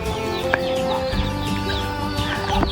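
Large chickens on a farm cluck and chatter continuously, several birds overlapping in a dense, steady, fairly loud flock sound, with no speech over it.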